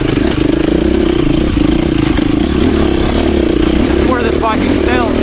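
A 2024 KTM 350 EXC-F four-stroke dirt bike pulls in third gear, its engine a loud, steady, close drone that fills the whole stretch, with a brief voice rising over it near the end.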